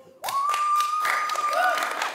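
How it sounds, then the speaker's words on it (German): A live audience at a comedy talk show claps in a dense, steady burst that starts abruptly and holds for about two seconds, with a sustained tonal whistle running through it. "Mal klatschen"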